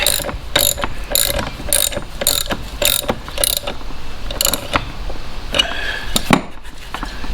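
A ratcheting wrench tightens the propeller nut on a boat's outboard motor in bursts of sharp metallic clicks. Quick runs of clicks alternate with short pauses, close and loud with no talk.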